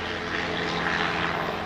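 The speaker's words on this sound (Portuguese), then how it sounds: "E isso é um helicóptero." A helicopter passes overhead outdoors, a steady loud engine and rotor drone holding evenly throughout with no talk.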